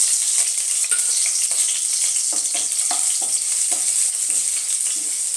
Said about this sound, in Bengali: হালকা ফ্রাই করবো এই দুটো জিনিসকে